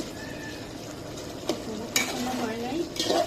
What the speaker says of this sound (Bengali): আবার একটু লাড়া দিব।